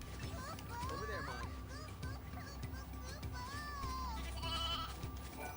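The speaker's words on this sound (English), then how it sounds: "Also for some reason those sheeps can make sheep sounds, but also cow sounds" Sheep in Final Fantasy XIII-2 bleat several times in short wavering calls, moderately loud over steady game background, with a person talking and some high chatter around them.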